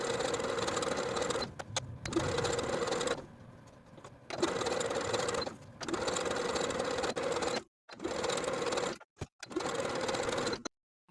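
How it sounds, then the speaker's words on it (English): A sewing machine top stitches a hem close to the raw edge, running in steady whirring bursts of about one to two seconds separated by brief pauses and a quieter stretch, near and fairly loud with no voices. "top stitch the hem in place close to the raw edges all the way around"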